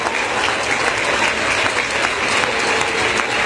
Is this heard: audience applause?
yes